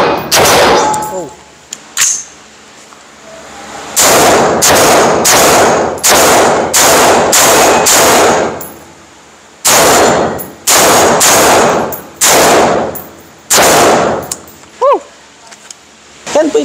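Outdoors, a Rock Island Armory Torch rifle in 5.56 fires about a dozen loud, close shots in irregular groups, some in quick succession, separated by short pauses with faint metallic clinks between bursts.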